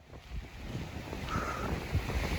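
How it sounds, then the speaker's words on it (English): Steady wind blows across the microphone outdoors on Hinchinbrook Island's Thorsborne Trail, a continuous rushing buffet with gusty low rumbling and no voices. "Nice and windy out here."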